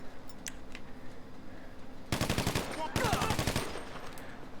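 Two rapid bursts of automatic gunfire in GTA 5, each lasting under a second with a short pause between them, loud against a quiet background hum.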